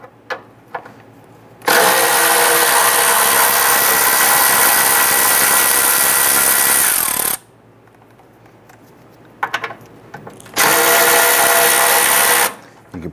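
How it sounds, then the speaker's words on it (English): Power tool driving a 10mm socket to remove radiator cooling fan bracket bolts on a 1994-2004 Ford Mustang, with two loud sustained whirring bursts, the first about six seconds long and the second shorter, separated by quiet handling clicks. "We're going to remove this bracket using a 10mm socket, loosen and remove these two bolts."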